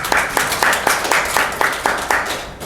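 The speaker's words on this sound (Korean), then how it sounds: "우리 모두 우리의 믿음에 박수 한번 칩시다" A church congregation at a Sunday worship service claps together in a steady, even rhythm, a continuous run of many hands in a reverberant hall with no speech.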